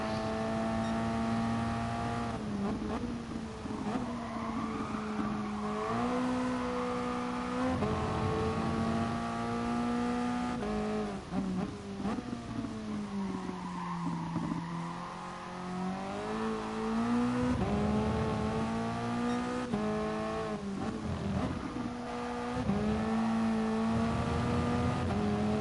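A race car lapping Brands Hatch in a racing video game holds a loud, continuous engine whine that climbs through the gears, drops on braking and rises again through corners, with no talk.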